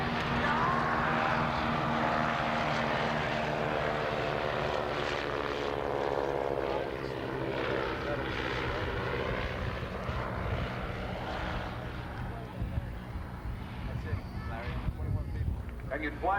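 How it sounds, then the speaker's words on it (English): Propeller engine drone of the world's oldest metal-skinned airplane flying at the 1989 Fort Lauderdale air show, a steady loud roar with shifting pitch as it passes, with a voice talking over it. "That here is the oldest metal-skinned airplane flying in the world."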